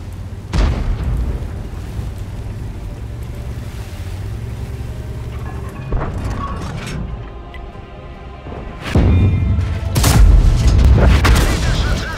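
Artillery shells explode in the tank game World of Tanks, with several loud, deep booms spread across the stretch and rumbling decay between them, ending in a cluster of heavier blasts.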